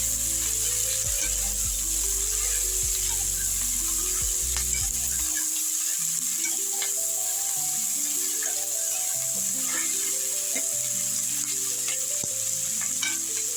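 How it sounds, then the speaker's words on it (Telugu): Chopped carrot, onion and tomato sizzle and crackle in a hot pan for a sambar, a loud steady fry with stirring and scraping, no one talking. "క్యారెట్, ఆనియన్, టమాటా అన్నీ ముక్కలన్నీ ఉడికిస్తాం."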